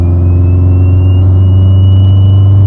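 A heavily modified 800hp Subaru STI engine idles with a loud, steady, deep rumble and a faint rising whine above it, close and continuous.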